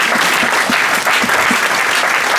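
A church congregation claps steadily during a French-language worship service, with dense, sustained applause filling the room and occasional louder claps standing out over the crowd.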